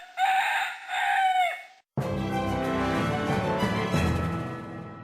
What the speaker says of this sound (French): Ça, ce qui vient de faire cocorico, c'est un coq.